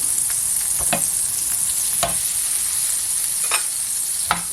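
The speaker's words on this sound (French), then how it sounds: "Et on va mettre les pommes dès que le beurre est fondu." Butter melting over high heat in a pan before apples go in for caramelised apple crêpes, a steady hissing sizzle with occasional sharp crackles and spatula clicks.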